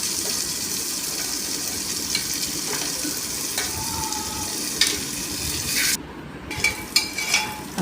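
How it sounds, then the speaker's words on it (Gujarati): Onion fries in a pan with cumin and curry leaves, a loud, constant close-up sizzle with light clicks of stirring, briefly dropping in intensity near the end. "આપણે કળી લીમડો નાખી પછી આપણે કાંદો નાખી કાંદો બરાબર થાય ત્યાં સુધી થવા દઈશું"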